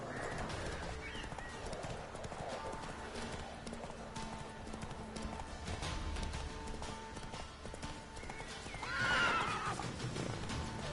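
Roach, a horse in The Witcher III, gallops with steady clip-clop hoofbeats and gives a loud whinny near the end, with ambient game sounds and faint birdsong behind.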